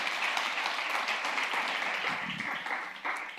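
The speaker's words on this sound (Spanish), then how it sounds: "¿Cuántos le dan un fuerte aplauso a Dios por eso?" A church congregation breaks into sustained, dense applause, a steady wash of many clapping hands filling the room and slowly tapering near the end.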